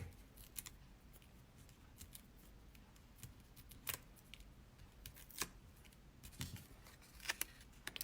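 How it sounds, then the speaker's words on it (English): Scissors snip through paper dimensionals during papercraft work, sparse sharp clicks and cuts scattered irregularly over a quiet room background, faint and close. "I'm cutting the edge of my dimensionals"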